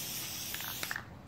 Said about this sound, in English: I guess I will spray it.